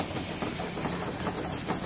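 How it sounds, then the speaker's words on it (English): A replica popcorn and peanut wagon steam engine runs on a steam display trailer, giving a steady, close hiss and mechanical churn with faint rhythmic chuffing throughout, no voices. "we have, of course, the replica of the popcorn and peanut wagon engine."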